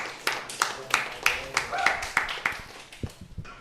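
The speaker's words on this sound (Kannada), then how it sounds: "ಚಪ್ಪಾಳೆ ಬರ್ಲಿ, ಚಪ್ಪಾಳೆ." A small audience at a Kannada comedy talent show claps in a steady, even rhythm of sharp, close hand claps, with voices talking alongside.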